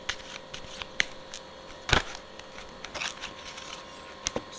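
Tarot cards being shuffled by hand in a quiet room: a faint, steady papery riffle with scattered soft slaps and one sharper snap near the middle.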